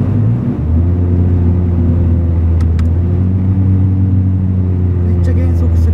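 A Honda CR-Z fitted with an aftermarket muffler drives along, its engine a loud, steady low rumble with a constant droning tone heard from inside the car.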